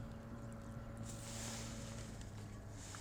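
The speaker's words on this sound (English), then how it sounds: "got a boat on the water behind us" A motorboat passes on the water behind a fishing kayak on a bass lake, giving a steady, moderately distant engine drone mixed with wind noise and no talk.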